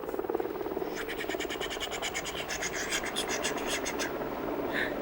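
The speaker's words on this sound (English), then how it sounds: "It was a helicopter" A rhythmic chopping flutter of a helicopter rotor in a children's TV show pulses steadily over a rough scraping noise, fairly close and continuous.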